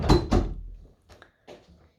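A door bumps shut indoors with two loud close thuds, followed by a few lighter clicks and knocks of the latch settling.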